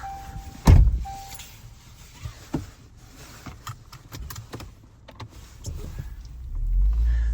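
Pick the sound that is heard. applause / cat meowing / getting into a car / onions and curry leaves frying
getting into a car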